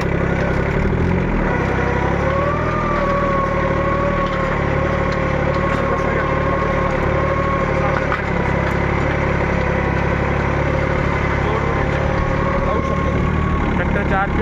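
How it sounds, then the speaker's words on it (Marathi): A Swaraj Target tractor runs in first gear in 4x4 while pulling a field implement, giving a loud, steady, close engine drone with a constant hum that holds evenly throughout. "आम्ही फर्स्ट गिअर टाकला मित्रांनो। सध्या आपला ट्रॅक्टर जो आहे तो 4x4 वरती चालू आहे"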